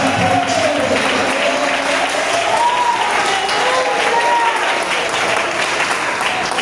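A church congregation applauds loudly and steadily throughout, with voices calling out over the clapping and a sung or shouted tone rising above the crowd.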